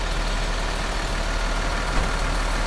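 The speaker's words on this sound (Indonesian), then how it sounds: "aku tuh suka banget sama suara mesin Hino RM karena dia suaranya halus sekali" A Hino RM engine in a Skylander R22 bus idles in a smooth, even low rumble, steady and close, with no voices.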